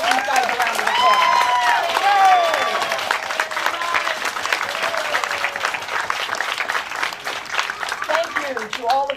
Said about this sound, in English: Let's please give these guys a round of applause.